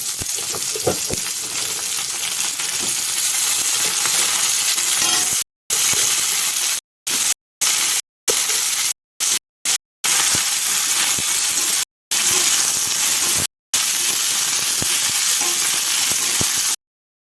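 Pumpkin pieces frying in hot oil make a loud, dense sizzle that is broken by several abrupt silent gaps.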